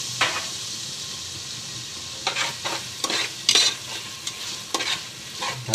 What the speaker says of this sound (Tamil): நல்லா வதக்கிட்டு தக்காளி நல்லா வதங்கணும்